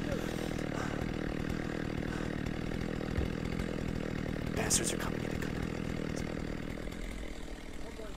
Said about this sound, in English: I'm hearing chainsaws.